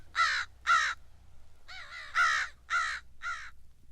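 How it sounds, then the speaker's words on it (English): An American crow gives six harsh caws in two groups, the first two close together, then four more after a pause, loud and clear against a quiet low hum. "The American crow"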